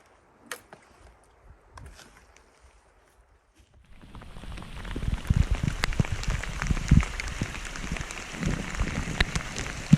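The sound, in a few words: rain and hail falling at a mountain campsite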